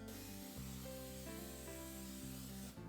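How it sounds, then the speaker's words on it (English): Cooking spray hissing into a hot skillet before a stuffed deer backstrap roast goes in, a steady close spray lasting a few seconds over a sustained background tone. "Give the pan a spray."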